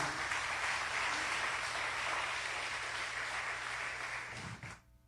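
Church congregation applauding together, a steady dense wash of clapping over a low sustained organ-like drone, fading out near the end.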